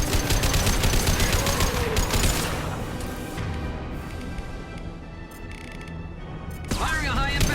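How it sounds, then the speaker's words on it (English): Heavy gunfire bursts in the Mass Effect video game, with loud, dense shots firing at close range and a high impact round, followed by quieter battle noise and then a renewed burst. "Firing a high impact shot."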